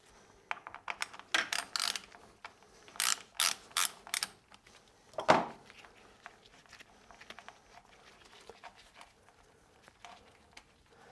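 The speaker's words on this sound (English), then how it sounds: "So I'm just going to take that servo motor off using the T30." A T30 Torx driver ratchets while removing the exhaust flap servo motor on a BMW motorcycle, with short bursts of crisp metallic clicking separated by quiet pauses and small handling noises.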